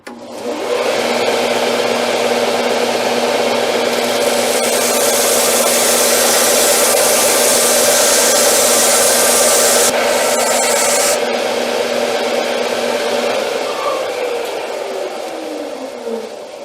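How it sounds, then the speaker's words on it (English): A power sander cuts flats into a wooden hammer handle with a loud, continuous abrasive rushing and a steady motor hum close by. The grinding texture changes slightly partway through before it winds down. "we're going to sand a couple flats on it this way"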